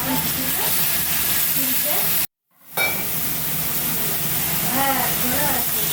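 A spice paste of chilli, turmeric, salt and water sizzles and hisses in a frying pan with a steady crackle, briefly cut to silence midway, while a person talks over it.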